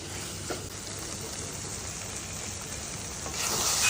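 Chicken keema masala frying in a pan as coriander leaves are stirred in: a soft, steady sizzle with faint scraping, swelling to a louder hiss near the end.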